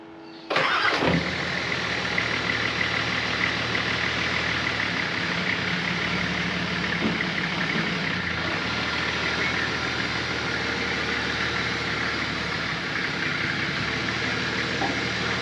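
A car engine cranks and catches before a test drive on new tyres, then settles into a steady, continuous idle close by, with no talking.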